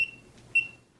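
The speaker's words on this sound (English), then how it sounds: "it's just consistent beeping" Two short, high electronic beeps about half a second apart, clear and close with nothing else around them.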